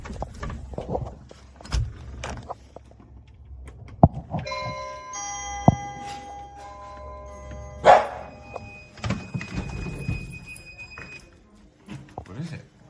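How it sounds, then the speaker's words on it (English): An indoor doorbell rings during a home test of a dog bark collar: a bright, sustained chime of several ringing tones, with thumps and voices around it. "here's the doorbell"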